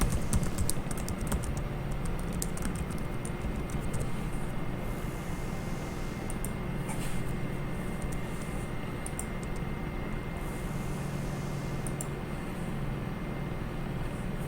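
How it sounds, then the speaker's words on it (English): Quick bursts of keystrokes on a computer keyboard typing a name into a Twitch chat, close and crisp over a steady background hum from a computer game running underneath. "I'm going to switch over to Twitch chat and just type out my name."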